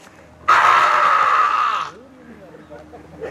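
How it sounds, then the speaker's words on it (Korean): A water deer call is played as a sound effect in an outdoor stage performance. One shrill, strained cry lasts about a second and a half, then quieter murmuring follows. "어디선가 들려오는 고라니 소리!"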